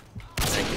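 Gunfire in a Modern Warfare 2 free-for-all match bursts in suddenly after a quiet moment, a loud, dense blast that fills the short stretch to the end.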